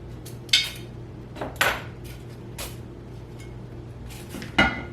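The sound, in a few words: thrifted dishes clinking as they are handled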